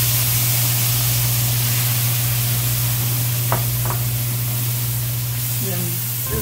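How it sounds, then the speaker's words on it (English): Onions sautéing in a pan give a steady, fairly loud hiss of frying that runs unbroken, with a couple of faint utensil taps near the middle and a brief clatter at the end. "And now we're going to put in the onions. Saute those till tender."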